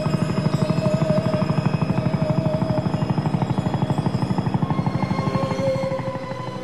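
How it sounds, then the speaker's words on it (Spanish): Steady thudding rotor chop of a squadron of military helicopters overhead, loud and continuous, fading slightly toward the end. "un escuadrón de helicópteros militares que sobrevolaba la capital"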